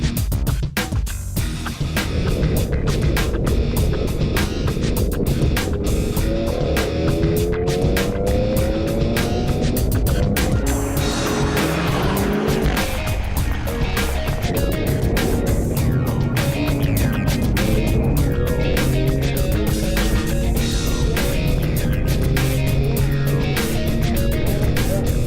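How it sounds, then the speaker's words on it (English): A BMW M performance car on a fast run at an M festival in South Africa, its loud engine revving hard through rising and falling gear sweeps with throttle blips, sustained close to the microphone. "I'm finally getting behind the wheel of an M performance beast."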